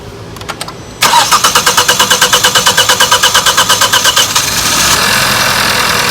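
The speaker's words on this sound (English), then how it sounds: "the vehicle does start with the sensor unplugged" A Hyundai Tucson engine cranks with its crank position sensor unplugged, a fast, even, rhythmic starter chatter lasting about three seconds before catching and settling into a steady, close idle.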